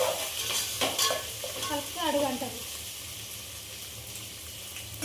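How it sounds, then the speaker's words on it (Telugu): Ginger and onion paste frying in a pan for fish curry, stirred steadily with a utensil: a constant close sizzle, with scraping stirs and a few brief clinks over the first couple of seconds. "అల్లం ఉల్లిగడ్డ వేయంగానే అట్లే వదిలేస్తే అడుగంటుతుంది కలుపుతూ ఉండాలి"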